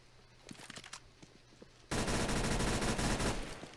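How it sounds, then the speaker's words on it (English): Mac-10 submachine gun blind firing in Counter-Strike on the Cobble map: a few scattered footsteps and clicks, then a sudden sustained burst of rapid automatic fire that runs loud and dense to the end. "Blind firing."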